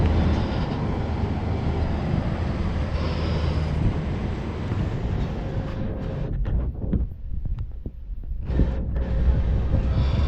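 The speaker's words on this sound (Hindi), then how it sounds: "ये ट्रेन है हमारे सामने से जो जा रही है, इंटरसिटी एक्सप्रेस।" An Intercity Express train of chair cars and AC chair cars passes nearby with a steady, loud rolling rumble and wind buffeting, easing briefly before the noise swells again.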